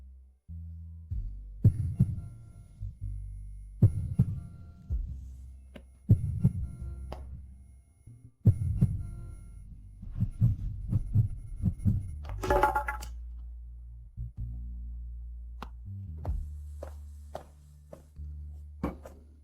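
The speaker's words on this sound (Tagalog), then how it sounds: "Bakit ang bilis ng tibok ng puso ko?" A fast heartbeat sound effect pulses in a Filipino drama about a cold CEO. Deep, thumping double beats repeat steadily and loudly, with one brief bright shimmer partway through and no talk.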